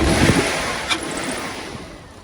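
Nissan Skyline project car engine running with a rough, rising-and-falling rumble, close and moderately loud at first and then easing off over a couple of seconds.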